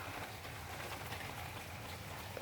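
Soft morning rain falling outdoors, a faint, steady hiss of drops with no breaks and no voices over it.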